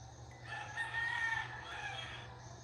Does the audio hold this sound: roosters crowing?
yes